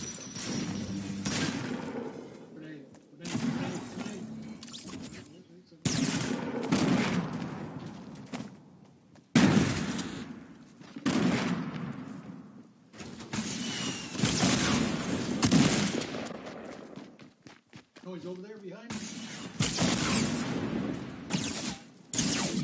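Other players' gunfire in a battle royale video game: repeated bursts of rapid shots and booms, loud and dense, broken by brief near-silent gaps across the stretch.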